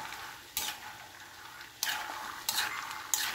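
Peanuts and garlic fry in a pan with a soft constant sizzle, punctuated by four distinct scraping stirs of a utensil at uneven intervals, close and moderately loud without speech.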